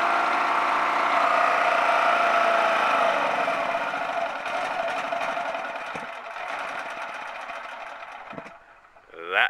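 A propane-converted generator engine runs steadily with a buzzing drone, then gradually weakens and stutters as it begins to die, a final clatter and rising noise at the end.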